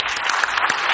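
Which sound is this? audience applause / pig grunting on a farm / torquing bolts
audience applause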